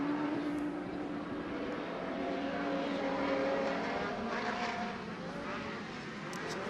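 Super Buggy race cars roar around the loamy Bark River, Michigan dirt track just after the green flag, a dense, continuous engine drone with rising and falling whines as several cars run together at a distance.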